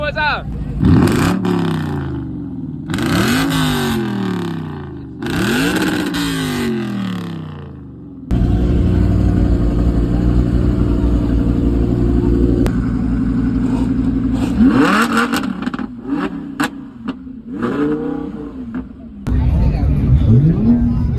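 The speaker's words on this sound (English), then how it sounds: "Every time I turn the camera on, somebody start revving." Car engines rev hard in repeated rising bursts at a Caffeine & Octane car meet, then a sustained loud roar with more revs, close by, with crowd chatter underneath.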